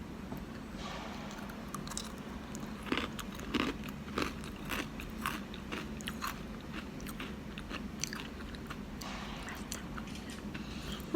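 Crispy baked yellow cheese chips being bitten and chewed up close, a steady run of crunchy crackles and soft munching with no talking.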